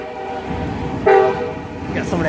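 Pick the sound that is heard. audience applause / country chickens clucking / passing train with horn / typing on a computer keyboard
passing train with horn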